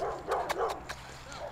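A dog at an old plantation house cellar gives a few short, moderately loud barks in quick succession, with some background noise between them.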